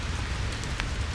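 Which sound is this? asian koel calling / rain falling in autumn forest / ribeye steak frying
rain falling in autumn forest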